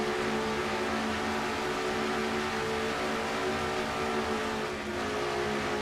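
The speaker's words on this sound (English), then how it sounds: "200 miles an hour at Michigan Speedway" A race car engine roars steadily at high speed on board at Michigan Speedway in a racing video game, a loud, continuous droning whine holding near 200 miles an hour with no talk over it.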